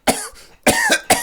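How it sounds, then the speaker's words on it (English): A man coughs three times in quick, harsh bursts, close and loud, with short gaps between them. "A coughing fit shook the man"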